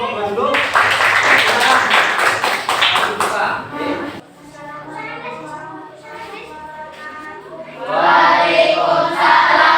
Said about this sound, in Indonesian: Tepuk tangan untuk kelompok kedua dulu.